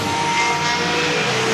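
Pure Stock race cars circling a track under green during a night feature race, their engines forming a continuous loud, dense roar with no breaks.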